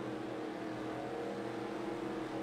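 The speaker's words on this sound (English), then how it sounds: "Pace cars pulling off." Modified race cars and pace cars at Oswego Speedway drone steadily as a dense, continuous engine roar at a distance, with no voices.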